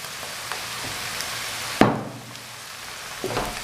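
Onions with sliced green chillies and dry red chillies hit hot oil in a pan, giving a sharp crackling burst and then a soft, steady sizzle close by, with a few faint knocks and stirs.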